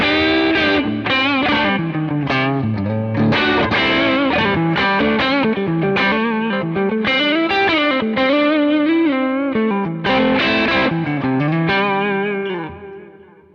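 A thick, distorted electric guitar plays a continuous melodic phrase with chorus-like shimmer, loud and close, then fades out at the end.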